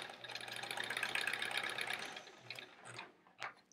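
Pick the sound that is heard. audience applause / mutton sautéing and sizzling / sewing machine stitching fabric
sewing machine stitching fabric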